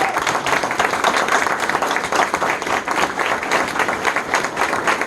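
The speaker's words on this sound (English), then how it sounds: "Let's give them a round of applause." Audience at a community meeting applauds standing veterans, sustained dense clapping from a crowd that stays loud and even for several seconds.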